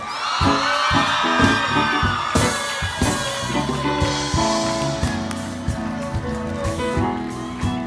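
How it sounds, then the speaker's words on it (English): Applause and cheering from the audience at the Meadowbrook High School Class of 2025 graduation, a loud continuous wash of clapping, whoops and shouts with music playing underneath. "Keep the applause going, ladies and gentlemen, for Crystal Green."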